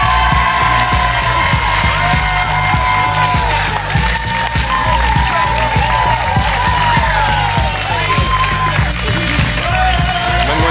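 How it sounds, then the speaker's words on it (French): Studio audience applause and cheering on a French TV talk show greets a comedian's entrance, loud and continuous for about ten seconds, with tonal music playing throughout. "un tonnerre d'applaudissements"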